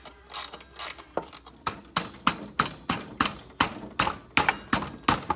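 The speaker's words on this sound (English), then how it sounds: "using one of my 10mm ratcheting wrenches, loosen this as much as we can get it" A 10mm ratcheting wrench loosening a bolt on a pocket bike clicks loudly and close in a steady rhythm, about a dozen rapid ratchet bursts in a row.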